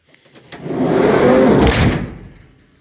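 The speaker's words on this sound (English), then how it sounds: "That closes really nice for a sliding door." A van's sliding side door rolls along its track and shuts with a smooth, close-up glide that swells and fades over about two seconds.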